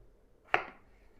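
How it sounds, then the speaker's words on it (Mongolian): A single crisp knife chop through a potato on a cutting board in a home kitchen, one sharp brief strike with a short tail, quiet and isolated, with no voices. "Хэрчих юм штэ та."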